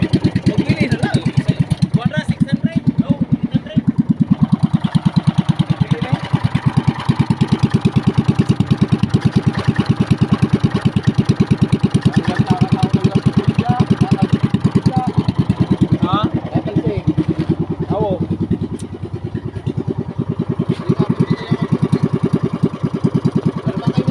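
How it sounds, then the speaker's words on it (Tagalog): A motorcycle engine runs steadily at a loud, even idle for the whole stretch, with people talking faintly over it at times. "Ang ganda ng tumakbo at tumunog ng makina."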